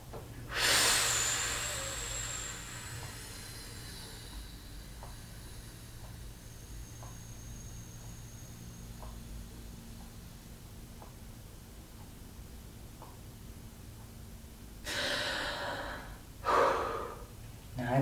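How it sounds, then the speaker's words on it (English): A person in a breathing exercise exhales forcefully in a long, strong, airy rush, then breathes quietly for a stretch, then gives two more sharp, breathy exhales near the end, close to the mic. "You blow out as much as you can blow out."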